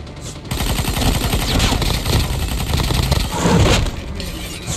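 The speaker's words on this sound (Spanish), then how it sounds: "Puedo avanzar hacia donde provenían sonidos de disparos" Rapid bursts of video game gunfire in a Call of Duty map rattle continuously, loud and close, with sharper cracks and a brief lull near the end.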